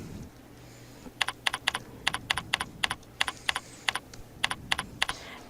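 Rapid keystrokes on a computer keyboard, a series of about twenty crisp, close clicks in irregular clusters over a quiet room background.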